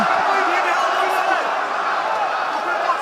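Loud, sustained cheering from a packed UFC arena crowd during an Ilia Topuria bout, a broad unbroken din of many voices with occasional sharper shouts on top.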